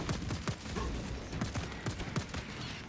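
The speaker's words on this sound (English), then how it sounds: "this new bolt pistol sound effect is so fucking cool" Bolt pistol shots in Space Marine 2, a rapid series of sharp, punchy blasts fired in uneven bursts over steady combat noise, loud and close.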